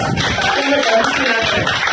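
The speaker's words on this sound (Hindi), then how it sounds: "जोरदार तालियां" An audience at a Delhi poets' gathering (kavi sammelan) breaks into loud, continuous applause, a close, dense clatter of many hands filling the whole two seconds.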